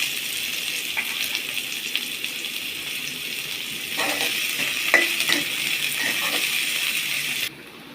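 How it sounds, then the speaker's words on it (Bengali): Chopped onions frying in hot oil for a fish curry, a steady close sizzle with occasional stirring scrapes and clinks, running continuously without talk before stopping abruptly near the end. "পেঁয়াজগুলো একটু ভেজে নিতে হবে"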